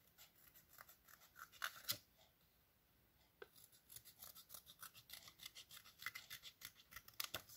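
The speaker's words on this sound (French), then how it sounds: "je vais donc le découper" Scissors snip through a paper Christmas card in a quiet room, a few sharp isolated cuts followed by a run of rapid, rhythmic snips close by.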